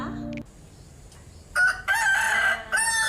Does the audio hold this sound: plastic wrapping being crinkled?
no